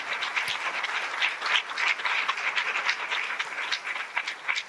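A church congregation applauding: a steady wash of many hands clapping at a moderate distance, sustained and even for several seconds, no talk.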